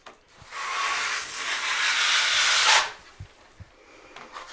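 Sandpaper rubs over dried drywall mud on a sagging ceiling repair, a steady close abrasive hiss for nearly three seconds that cuts off abruptly, followed by a few faint knocks.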